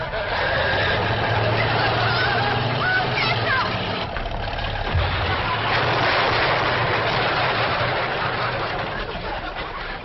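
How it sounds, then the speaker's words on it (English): An old truck smashing into a wooden chicken house beside a cabin, with a crashing impact, engine rumble and flustered chickens squawking, all under loud continuous background noise from a 1960s sitcom scene. "Cousin Pearl and that overgrown son of hers is headed right for the cabin in that old truck"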